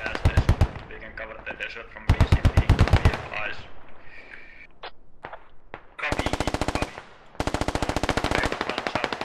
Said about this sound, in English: Tank is now firing shells.